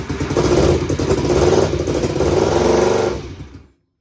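A BSA Fury SS (E35SS) motorcycle engine runs flat and rough at a steady idle with a clattery mechanical tone, then cuts off abruptly as the ignition is switched off.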